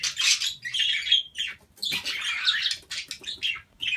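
Budgies in breeding boxes chirp and chatter close by, a busy run of overlapping bright tweets and squawks broken by brief pauses.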